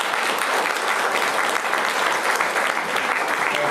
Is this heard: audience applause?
yes